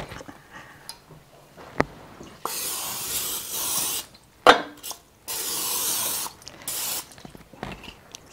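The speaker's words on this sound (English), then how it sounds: "I'm going to spray my Crock-Pot." Cooking spray hisses into a Crock-Pot slow cooker in a few close, loud bursts of a second or so each, with quiet gaps and small clinks between them.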